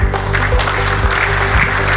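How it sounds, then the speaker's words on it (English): An audience claps to welcome a speaker to the lectern, a loud, dense round of applause heard up close with a steady hum underneath, lasting only a couple of seconds. "A round of applause as we welcome him to the lectern."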